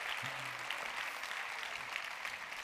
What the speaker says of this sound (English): A big round of applause for Minuit 12